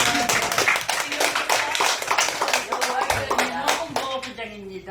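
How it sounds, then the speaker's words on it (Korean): A small group claps together for a few seconds at a Korean literary society's monthly meeting, steady hand claps filling the room, with some voices mixed in. "박수."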